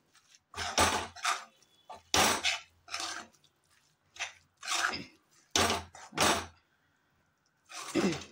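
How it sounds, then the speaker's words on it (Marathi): Modak filling stirred with grated nutmeg and cardamom powder, close-up scraping and clinking of a spoon against the pan in short uneven bursts separated by pauses. "परत हे आता चांगलं मिक्स करूया।"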